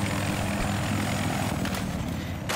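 An aircraft engine in the video game Battlefield 4 (Naval Strike) drones loudly and continuously, a thick, steady roar with a slight shift near the end and no voices over it.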